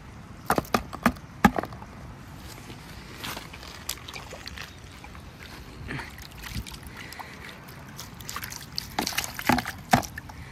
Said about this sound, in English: I'll dump these out into this pan